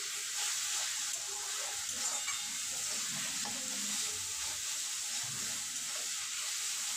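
Vegetables with pasta sauce and soy sauce sizzle steadily in a hot pan while being stirred, a constant close hiss with faint scraping underneath.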